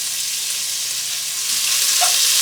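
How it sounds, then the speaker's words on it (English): Pancetta sizzles in a little oil in a cast iron pan, a bright, steady hiss that swells slightly toward the end, close and alone. "we just got a little oil in our cast iron pan, and now we are going to add the pancetta"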